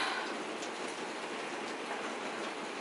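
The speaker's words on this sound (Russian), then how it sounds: "только зашла домой и снова пошел дождь" Steady rain pours down outdoors after a downpour resumes, a dense even hiss without pause, moderately loud and close, with no voices.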